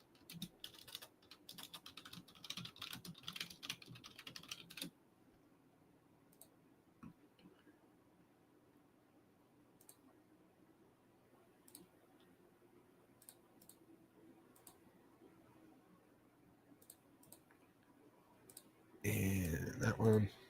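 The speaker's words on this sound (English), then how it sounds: "Let me just type that." Keys clatter quickly on a computer keyboard in a busy burst during the first five seconds. A quieter lull follows with a few scattered clicks, then a loud burst comes near the end.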